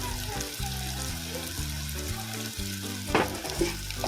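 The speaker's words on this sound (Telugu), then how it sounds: "ఇవి కొంచెం అంటే నూనెలో మగ్గితే బాగుంటుంది" Curry leaves, onions, green chillies and ginger fry in hot oil with a dense, close sizzle over a low hum, plus a brief clatter near the end.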